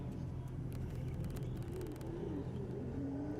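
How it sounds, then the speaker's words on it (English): A BMW pulling away at an evening car meet, its engine note rising in a low, steady rumble with a whirring tone, moderately distant beneath ambient noise. "As the BMW takes off."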